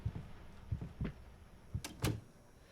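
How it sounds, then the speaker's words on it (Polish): A door thuds shut behind the player in the horror game Layers of Fear, one of several soft low knocks and bumps followed by two sharper clacks, fairly quiet with no talking. "I teraz drzwi będą się najprawdopodobniej cały czas za nami zamykać"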